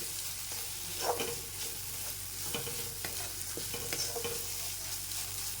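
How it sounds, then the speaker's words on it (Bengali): Spice masala of turmeric and cumin powder frying in a pan for potol chingri, a steady sizzle under repeated scraping strokes of a spoon, close and moderately loud with no talk. "মশলাটাকে কষাতে হবে ভালো করে"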